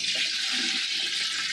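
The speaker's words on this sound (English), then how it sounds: "What I'm going to do now is I'm going to start to put water in." Water streams steadily into a cooking pot holding chicken, a close, continuous rushing pour with no talking.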